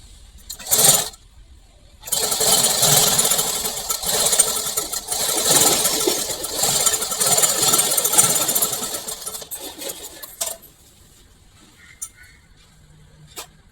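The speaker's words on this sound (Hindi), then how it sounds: "स्टिचिंग कर लेंगे।" A sewing machine stitching a neckline on a two-year-old's kaftan baby frock gives a brief whirring burst, a pause, then a long steady run of rapid mechanical stitching before stopping, followed by faint handling sounds.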